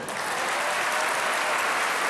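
Audience at a billiards match applauds in a dense, even wash of clapping that stays steady for the full two seconds.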